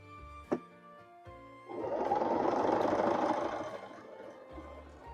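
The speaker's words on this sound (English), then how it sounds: "Actually sewing this time." A sewing machine stitching in one steady whirring run of about three seconds, close and clear, framed by a couple of small clicks and a quiet hum before and after.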